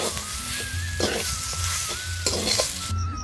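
Vegetable chop mixture stirred together with pre-fried spices in a pan, steady close sizzling under repeated scraping strokes of the spoon, with no talking.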